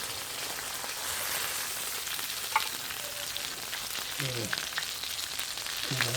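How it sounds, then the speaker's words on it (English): Fish is stirred in a hot pan while frying. A soft, continuous sizzle runs throughout, with a few light scraping and clinking touches near the end. Everything stays fairly quiet and steady. "just a matter of mixing our fish"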